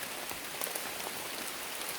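Steady rain falls on a surface in Uthai Thani province, Thailand, as a continuous even hiss of many drops with no other sounds over it.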